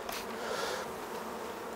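Honeybees buzz steadily inside a Langstroth hive under a clear cover board, a soft continuous hum at low level without pauses.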